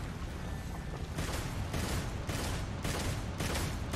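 Video game gunfire at an enemy, heard as a run of sharp broadband shots spaced roughly half a second apart over steady background noise, fairly quiet overall with no talking.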